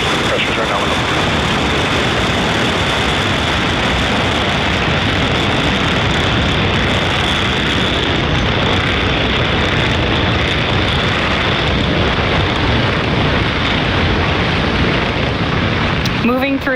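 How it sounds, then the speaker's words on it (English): A SpaceX Falcon 9 rocket lifting off from pad SLC-40 at Cape Canaveral, its Merlin engines producing a loud, continuous roaring rumble that holds steady throughout, dense and distorted, with no voices audible over it. "Falcon 9 has successfully lifted off from pad 40."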